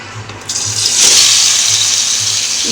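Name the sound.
tomatoes frying in hot oil for paneer curry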